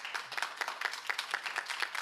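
An audience at a school board meeting claps in a faint, brief burst of scattered applause heard from a distance.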